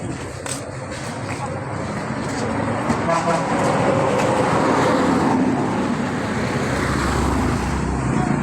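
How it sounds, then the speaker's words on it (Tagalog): Steady roar of many vehicles passing on a busy road in Bato, Leyte, with engines and tire noise filling the scene and occasional short horn toots cutting through. "Maraming sasakyan."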